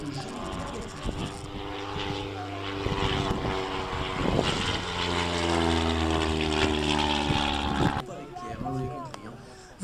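Propeller aircraft flying aerobatics at an air show meeting in Belvès, engine drone rising and falling with pitch changes, loud and continuous throughout, with a narrator talking over it.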